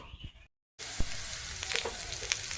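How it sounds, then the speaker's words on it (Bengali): Potatoes frying in a pan, a continuous close sizzle with small crackles and pops after a brief pause at the start. "এখানে আলু কিন্তু আমার ভাজা হয়ে গেছে, এই যে লাল লাল করে ভেজে নিয়েছি।"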